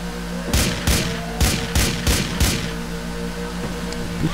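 Gunfire in the video game Grand Theft Auto IV, heard from aboard a boat: six sharp shots in an irregular burst over a steady engine hum, fairly loud and close, with no talk.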